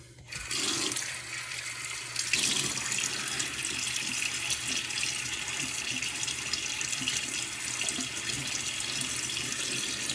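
Tap water runs steadily into a bathroom sink to wet the face before a shave with an Astra green blade and synthetic brush, a continuous close hiss that starts after a short pause and carries on alone.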